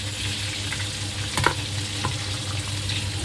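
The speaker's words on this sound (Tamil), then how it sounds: "பொரிச்சு எடுத்த அதே எண்ணெயில் பச்சை மிளகாவை போடணும்" Green chillies frying in oil left over from frying prawns give a steady, close sizzle with a faint low hum underneath and a couple of brief stirring clicks.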